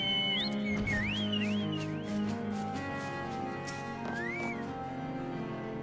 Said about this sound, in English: That's just giving a whistle.